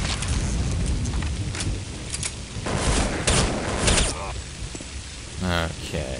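In Counter-Strike: Condition Zero Deleted Scenes, gunfire rattles in sharp bursts alongside a grenade blast. There are several loud, close cracks and booms in quick succession, with a voice briefly heard between them.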